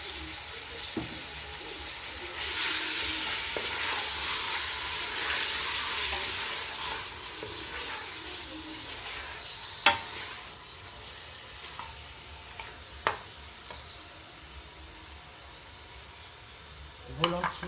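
Meat and onions frying in a pot for Moroccan harira, a broad sizzling hiss that swells early then settles, broken by a few sharp clicks and knocks from stirring, with no talk over it.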